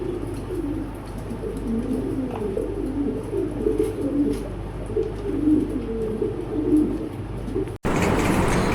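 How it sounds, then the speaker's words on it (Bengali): A male pigeon coos steadily in low, rolling phrases, repeating throughout, close and clear, ending with a sudden burst of noise. "দেখেন নটটা কি সুন্দর করে ডাকতেছে"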